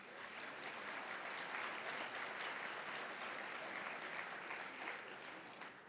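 Conference audience at a lunch plenary session on sustainability giving a round of applause, a steady, dense, distant-sounding wash of clapping sustained for the whole span.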